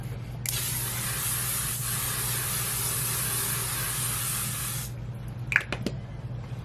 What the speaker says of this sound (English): this is a L'Oreal Infallible Setting Spray